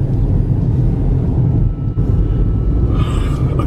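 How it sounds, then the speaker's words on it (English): A car passes on a narrow mountain road beside a creek, a loud, steady low rumble close by that holds throughout, with a brief dip near the middle and a slight brightening toward the end. "Okay, the car's passed."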